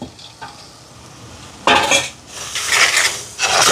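Ginger garlic paste and fried brinjal are stirred in a clay pot over a wood stove, with loud, close sizzling and repeated scraping, clattering strokes building over a steady frying hiss.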